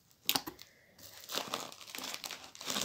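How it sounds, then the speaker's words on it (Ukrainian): A parcel from an online soap-supply store being unpacked, with sharp crinkling and tearing of plastic packaging in close bursts, louder and denser in the second half. "Буду зараз розпаковувати."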